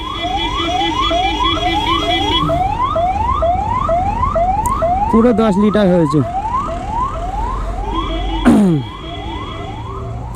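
An ambulance siren on the road at Shyambazar crossing wails in rapid, repeated rising sweeps, loud and near, broken by a couple of brief sharp blasts, with someone briefly talking over it.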